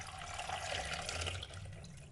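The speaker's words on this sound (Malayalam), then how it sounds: "1 ലിറ്റർ വെള്ളം ഞാൻ ഇതിൻ്റെ അകത്തേക്ക് ഒഴിച്ചു കൊടുക്കുന്നുണ്ട് കണ്ടോ." One litre of water poured from a measuring cup into a pot with orange peels for a herbal hand wash, a soft, close, continuous splashing trickle that is faint and short, with no talking.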